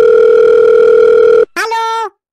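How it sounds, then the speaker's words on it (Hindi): A steady telephone dial tone hums loudly for about one and a half seconds while a call is placed, then cuts off and is followed by a brief, gliding higher tone that ends abruptly. "यह नंबर में फोन लगा के बात कह लेती हूँ। घंटी जाए तो लागी"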